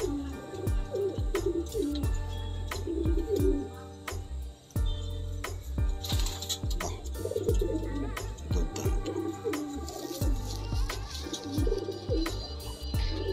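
A male Madrasi pigeon coos in repeated low, throaty phrases, fairly close, with other birds chirping faintly in the background and no talk.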